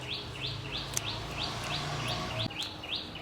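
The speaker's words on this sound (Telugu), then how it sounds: "అసలు పక్షులు ఎంత అందంగా మన మిద్దె తోటలో సందడి చేస్తున్నాయో." Birds chirp in a rooftop terrace garden, a repeated bright call sounding every few tenths of a second, moderately close over a soft outdoor hiss, with no talking.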